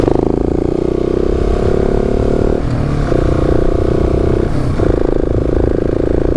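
A KTM 690 SMC-R single-cylinder motorcycle pulls along at a relaxed pace, its engine droning loud and close, with brief dips in pitch between gear changes.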